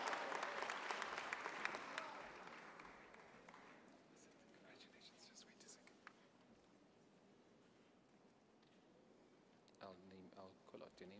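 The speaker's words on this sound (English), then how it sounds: "You can clap for her now." A graduation ceremony crowd at the Gordon Institute of Business Science claps for a graduate with distinction. Soft, distant applause swells at first, then dies away into quiet room noise, and a voice speaks near the end.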